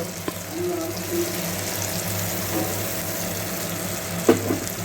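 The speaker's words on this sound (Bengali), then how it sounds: "এর মধ্যে আমি লঙ্কা আর পোস্তর পেস্টটাকে দিয়ে দেব" Chili and poppy seed paste frying in a pan for a Bengali fish curry, a steady soft sizzle with faint stirring scrapes and a brief clatter near the end.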